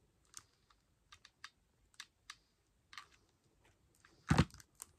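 Scissors snipping off leftover material while making a shabby-style gift bag: a run of small, close crisp cuts at irregular intervals, ending in one louder, firmer cut, with no talk.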